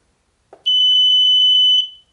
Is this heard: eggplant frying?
no